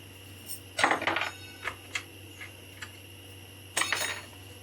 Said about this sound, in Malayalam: നമുക്ക് കൈപ്പയ്ക്ക വറുക്കാനായിട്ട് ഒരു പാത്രം വയ്ക്കാം.